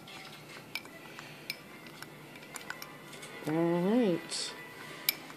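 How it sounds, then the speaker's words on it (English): Utensil stirring a glitter and acrylic mix in a small container, a few light clinks and scrapes with a brief louder swirl near the end, close by; a voice speaks briefly. "let me give this a stir."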